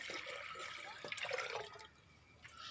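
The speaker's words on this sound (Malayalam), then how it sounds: "ആദ്യം നമ്മൾ ജാറെടുത്തിട്ട് അതിനകത്ത് 2 ഗ്ലാസ് വെള്ളം നമ്മൾ എടുത്തത് മുഴുവൻ ഒഴിച്ച് കൊടുക്കാം." Water is poured into a blender jar for a lemon drink, making a soft, steady splashing rush for about two seconds that then fades to a quieter trickle, with no talking.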